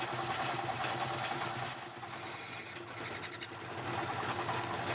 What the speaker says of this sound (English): Then a 12mm drill bit is used to drill a proper hole